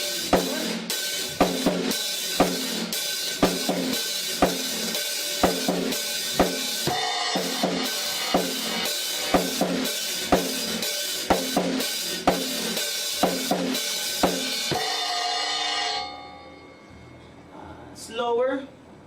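A drum beat with right and left hands played together: steady, evenly spaced kit hits with a bright, washy top layer, close and loud for about fifteen seconds before stopping abruptly.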